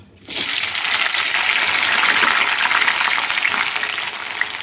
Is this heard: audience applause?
no